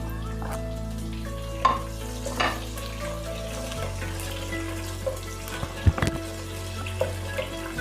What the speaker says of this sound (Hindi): इनको हम 2 से 3 मिनट फ्राई करेंगे।